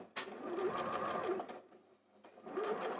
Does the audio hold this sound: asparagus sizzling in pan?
no